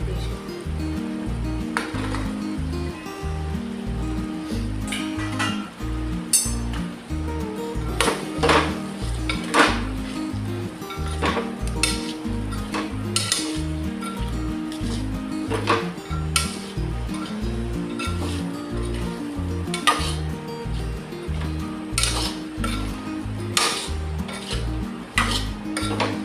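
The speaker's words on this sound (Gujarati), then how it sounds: "હવે આપણે ગવાર ધોઈને લઈ લીધો છે તે એડ કરી દઈશું." Washed guvar cluster beans go into hot spiced oil with a soft sizzle, under repeated metallic clinks and scrapes of a spoon stirring against the pan in a rapid, uneven rhythm.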